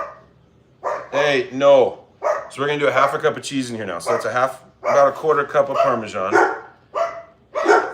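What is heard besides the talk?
dogs barking indoors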